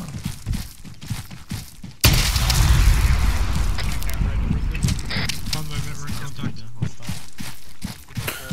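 A frag grenade goes off in the military shooter Arma 3, a sudden loud boom that breaks into a sustained low rumble and rolling noise lasting several seconds, with players talking over it before and after the blast.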